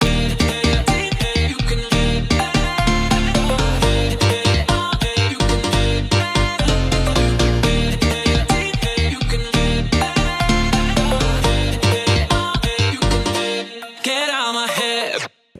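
A dense electronic track plays its harmony section, with loud rhythmic synth chords and punchy beats throughout, ending in a tape-stop style pitch drop and fade before cutting out.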